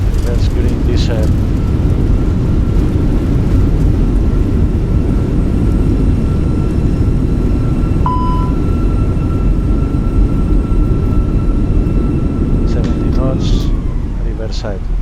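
The engines of a Fenix A320 in a flight simulator roar in reverse thrust after landing. The noise is a loud, steady broadband rumble that lasts the whole time, with a faint tone running over it and no voices.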